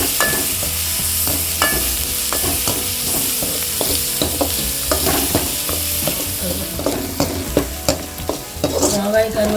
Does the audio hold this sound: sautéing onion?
yes